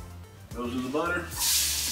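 Butter hits a hot frying pan for a spicy burger and garlic fries, giving a building hiss that rises toward the end, with a voice talking over most of it.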